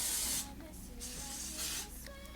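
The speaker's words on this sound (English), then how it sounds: "I'm gonna just use my adhesive spray," Adhesive hair spray hisses onto a loose wave bang wig in a few short bursts, close and fairly soft, with faint handling noise between sprays.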